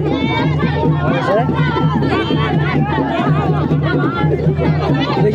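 A gathered crowd at a wedding procession in a Uttarakhand village, many voices chattering and overlapping into a loud, close babble as a quarrel breaks out among them.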